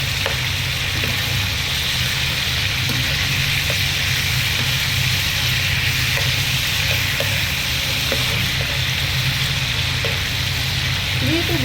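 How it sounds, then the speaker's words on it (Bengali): Chicken pieces frying in hot oil for a homestyle roast, a dense continuous sizzle with scattered pops and crackles, close and loud throughout with no pauses. "তো মুরগিগুলো ভেজে নিই। আর এটা ফুটাফুটি করতেছে, সাবধানে ভাজতে হবে।"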